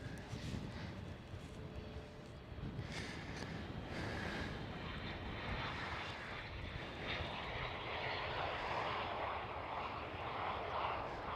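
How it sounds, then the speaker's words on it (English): A large airliner passes at Schiphol Airport in Amsterdam, its engines a loud, steady roar with a broad rushing wash and some wind buffeting that holds for the whole stretch, with no voices over it. "our fourth competitor for the biggest aircraft of today"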